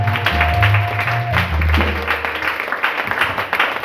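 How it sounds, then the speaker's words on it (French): Church congregation applauding for the Lord during a French-language worship service, a sustained wash of clapping and cheering voices with a steady organ or keyboard tone underneath, loud and continuous throughout. "Acclamons pour le Seigneur."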